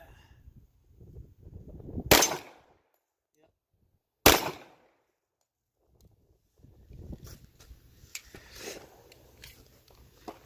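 Two sharp gunshots from a Tisas 1911 pistol fired at a target, spaced about two seconds apart, followed by quieter handling noise and low talk.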